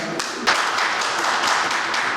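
Applause greets a speaker at an industrial convention, a dense, steady wash of many hands clapping that swells slightly after the first half second and holds without any talk.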